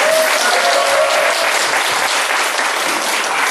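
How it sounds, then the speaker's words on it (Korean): Warm audience applause at a church parent-education session, a steady dense wash of clapping that holds loud and even from start to finish with no speech over it. "저 뜨거운 박수 다시 한 번"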